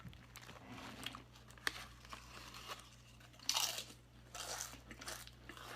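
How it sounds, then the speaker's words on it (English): Someone bites and chews cheesy Lay's potato chips up close, with sharp crunches and crinkles of the bag scattered irregularly over a low background hum. "That cheesy crunch."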